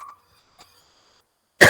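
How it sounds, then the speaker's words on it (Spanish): A single short, rough cough from a lecturer with a lingering post-COVID cough, bursting out loud and close after near silence, with a faint tone and a soft tap earlier. "disculpe que tengan un poco de tos,"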